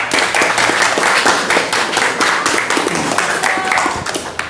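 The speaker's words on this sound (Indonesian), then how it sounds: "tepuk tangan untuk Reza" A classroom of students claps together for a classmate, a dense, steady burst of many hands lasting several seconds and tapering slightly at the end, with no voices over it.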